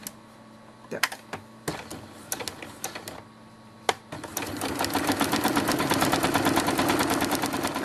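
A few separate needle stitches tap out, then a sewing machine runs steadily in a fast, even mechanical chatter while stitching a dollhouse-size quilt, close and clear.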